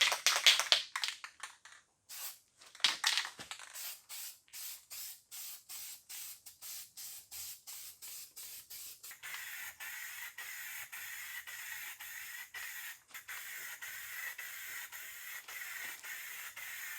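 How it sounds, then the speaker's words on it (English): Aerosol spray paint hissing onto chrome mirrors in a long series of short bursts, then a steadier continuous spray, close and fairly loud with no talking. "So I'm going to shake this up, get to spraying"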